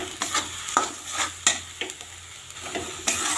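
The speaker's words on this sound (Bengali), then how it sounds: "তেলে একটু ভালো করে ভেজে নামিয়ে নেব।" Fresh coriander leaves fry in oil in a pan, a close sizzle broken by a run of sharp, evenly spaced stirring scrapes.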